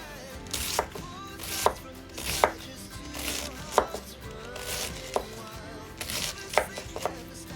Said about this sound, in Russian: Вот такой вот соломкой нарезаю капусту.